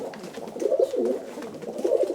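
Soft, throaty pigeon cooing close by, a few rolling coos in quick succession with no talking.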